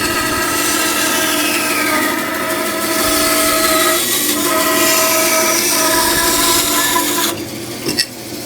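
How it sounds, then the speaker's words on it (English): A bandsaw cuts through wood while building a rocking cradle, giving a steady, close, continuous rasping hum that runs unbroken for most of the stretch, then shifts near the end as the blade clears the workpiece. "let's get the bandsaw"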